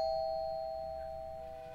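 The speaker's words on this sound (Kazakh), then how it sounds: "Неме есік сындырып қоңырау басады ма?" A doorbell rings once in the horror video game Fears to Fathom: Home Alone, a steady sustained chime that slowly fades against a low background hum, with no talking.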